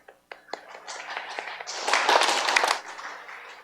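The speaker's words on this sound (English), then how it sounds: "Clap your hands." Church congregation clapping their hands together during a sermon, a scattered crackle of claps that swells into a dense burst of applause-like clapping before thinning out.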